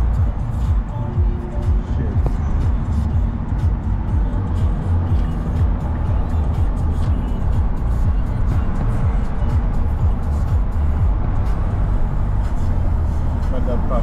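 Heavy highway traffic on Interstate I-95 North in New Jersey, a loud continuous roar of passing cars and trucks with steady rumbling and no letup throughout.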